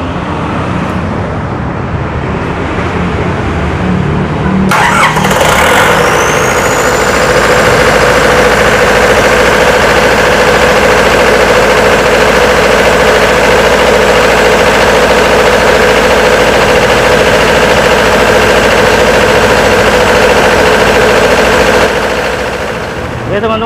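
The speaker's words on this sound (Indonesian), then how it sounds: "Saya hidupkan engine-nya lagi." Engine starting up near the oil pressure switch, first a low hum and then a sudden loud start at about five seconds settling into a steady, dense running roar that continues to the end.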